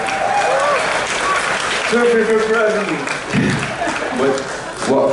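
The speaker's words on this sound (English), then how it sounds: "please, give me an applause, I deserve it" A conference audience breaks into applause and cheering, a dense wash of clapping with voices calling out and chuckling over it.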